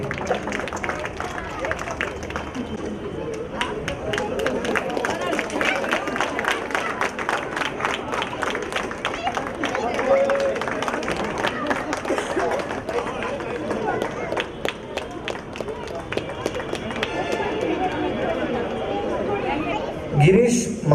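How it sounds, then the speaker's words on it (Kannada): Sustained loud applause and clapping from the audience at a Rajyotsava prize distribution, a dense continuous patter lasting the whole stretch with crowd murmur and a voice over a loudspeaker mixed in. "ಜೋರಾದ ಚಪ್ಪಾಳೆ ಬರಬೇಕು."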